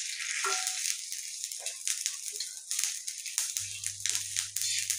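Fennel and sesame seeds sizzling in hot oil with a little garlic over a low flame, a steady faint crackle with soft scattered pops and a low hum underneath, no voices.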